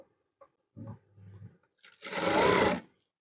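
A sewing machine runs in short bursts while joining a maxi dress sleeve to the bodice, a brief quieter whirr followed by a louder, longer run of stitching, with gaps of near silence.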